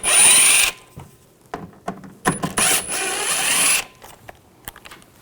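A power drill with a T15 socket removes trim screws on a 2014-2018 GMC Sierra 5.3L V8, giving several short whirring bursts, one longer run, and clicks and handling noises between them, close by.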